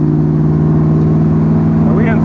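A 1968 AMC Javelin's engine drones steadily and loudly on a test drive, a constant low hum with a slight rise near the end, while people talk over it.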